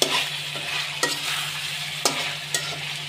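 Goat meat frying in a pan, stirred with a spoon: a steady close sizzle broken by four sharp scraping strokes spaced through the stretch, with no voices.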